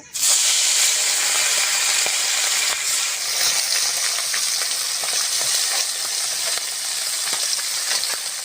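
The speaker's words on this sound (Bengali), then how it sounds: "প্রথমে পুঁটি মাছগুলো ভেজে নেব" Puti fish frying in mustard oil in a wok, a loud, steady sizzle and hiss that runs unbroken throughout, with occasional soft crackles and no talking.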